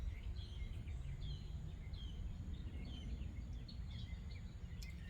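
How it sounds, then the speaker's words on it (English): Birds chirping outdoors, small scattered calls sounding faint and distant over a steady low rumble of background noise. "But just listening to the birds and seeing where my mind goes."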